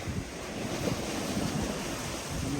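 Strong seaside wind batters the microphone in a continuous low roar, with surf noise mixed in and slight swells in loudness, fairly close and unbroken throughout.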